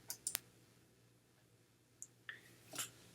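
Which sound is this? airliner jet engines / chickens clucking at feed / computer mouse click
computer mouse click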